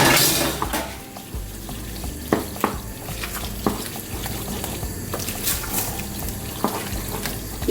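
Macaroni is stirred into a sauce in a pot: close, continuous wet squelching and scraping with scattered spoon clicks against the pot, alone without talk.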